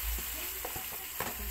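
Squid goes into a pan with crushed tomato for coconut-milk adobo, producing a close, lively sizzle with several soft stirring knocks over about a second and a half.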